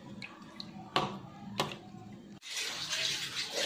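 Cold water runs and splashes as boiled dried fish is washed, with a few soft clinks and knocks at first, then a steady, close rush of pouring water through the second half.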